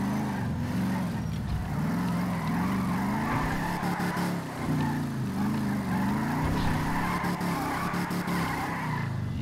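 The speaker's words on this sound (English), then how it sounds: "You can drift it to park it." A 1970 Chevrolet Pro Touring with 945 HP drifts through a parking lot in GTA V, its tires squealing in long wavering howls over a loud, continuous engine drone.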